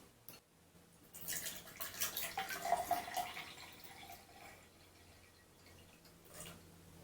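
Water poured into a glass for a classroom salt-mixing demonstration, a faint splashing trickle that rises for a few seconds and then fades, heard alone in a quiet room.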